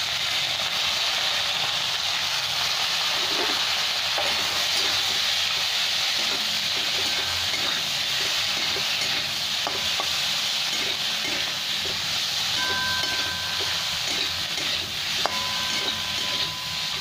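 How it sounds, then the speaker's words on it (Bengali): Cleaned prawns, salted and dusted with turmeric, frying in a pan with a loud continuous hissing sizzle, soft stirring clicks and a couple of faint tonal beeps late on, without talk. "এক দু মিনিট চিংড়ি মাছটা একটু ভেজে নেব"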